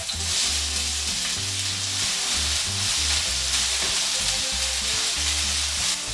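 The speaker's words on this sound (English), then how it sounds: "When the oil is hot and you start to smell the garlic, we start cooking the onion." Onion cooking slowly in garlic-infused oil for an Italian peperonata: a continuous even sizzle, close and steady, with a low repeating hum beneath and no voices.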